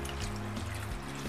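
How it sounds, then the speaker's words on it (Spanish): Hot water pours steadily into a container in a home kitchen, a dense continuous splashing stream with a low hollow resonance, close and unbroken for its short length. "lo que hago es colocarlo en agua caliente"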